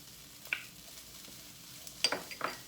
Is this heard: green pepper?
yes